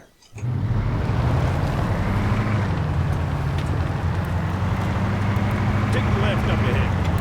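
A vehicle driving in the video game Arma 3, a steady engine drone that starts abruptly and holds at an even level, with a voice talking over it.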